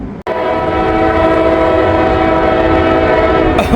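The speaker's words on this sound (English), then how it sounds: "we got another northbound CSX train" A northbound CSX freight train passes close by, its horn blaring in a long sustained blast over the heavy rumble of rolling cars.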